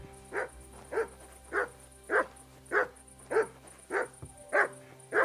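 A dog in the Kingdom Come: Deliverance II video game barks on command, ten evenly spaced single barks in a steady rhythm, moderately close, alone with a faint game ambience beneath.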